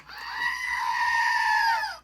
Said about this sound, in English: you guys got to say hello to the goats for Christmas